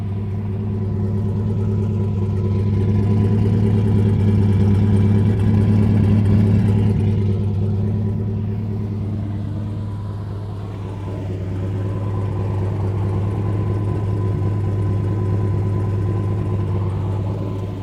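A turbocharged Corvette engine idles with its exhaust exiting under the center of the car, giving a steady, close, deep rumbling drone that swells slightly and then settles back for the whole stretch.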